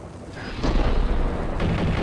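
Dense gunfire and booming explosions from the video game Max Payne, a loud, continuous rumbling barrage with heavier blasts punching through, and no voices.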